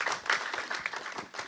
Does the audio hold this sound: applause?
yes